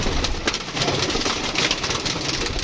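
Pigeons in a loft setup coo softly amid a dense, noisy background hum, their low murmuring calls blending into steady ambient rumble.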